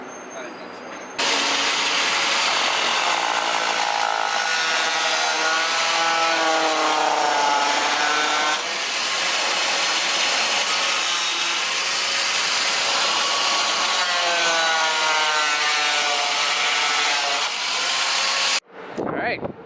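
A power saw cuts steadily through a car's rear lip kit up close, a loud continuous grinding whine that wavers in pitch for most of the clip before stopping.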